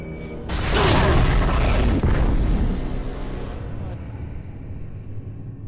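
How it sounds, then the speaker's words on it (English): A tunnel detonation in the video game Bioshock 2 bursts into a loud, deep boom with a rumbling roar that swells, holds for a couple of seconds, then slowly decays into a low fading rumble. "Detonate the tunnel!"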